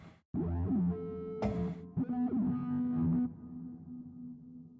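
A heavily distorted synth tone from an "Angry Whiplash" preset in a hard-dance production lesson swoops and growls through several bursts, with a sharp noisy hit in the middle, then decays into a sustained buzzing note.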